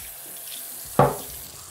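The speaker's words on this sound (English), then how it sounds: "what we're gonna do is turn the tap on and rinse every single one of these products." A bathroom sink tap turns on abruptly and runs in a steady splashing stream while products are rinsed, loud and close after a quiet start.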